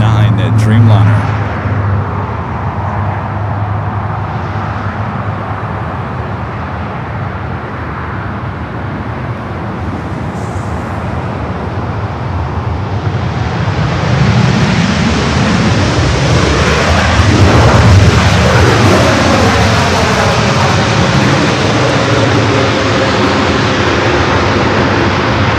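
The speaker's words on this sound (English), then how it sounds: "This is the flight coming from Tokyo Narita, the 787-9 Dreamliner." A Boeing 787-9 Dreamliner arriving from Tokyo Narita at LAX gives a broad jet roar that swells in the second half and stays loud and rumbling, with a voice talking over it.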